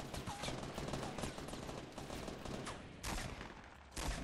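Rapid bursts of gunfire in the Fortnite Battle Royale video game, dense overlapping shots and automatic fire with sharp louder reports near the end, continuous and fairly loud.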